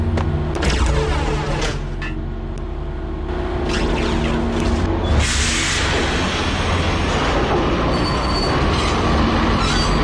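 A train in the Max Payne video game powers up in a subway station, a loud continuous rumble of rail cars with screeching wheel squeals and metallic clatter throughout, building slightly in intensity, with no voices.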